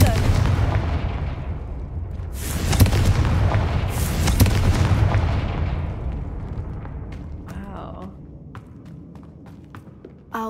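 Confringo fire spell explosions in the Hogwarts Legacy video game, loud booming blasts and crackling rumble that swell in the middle, then fade with debris clatter near the end.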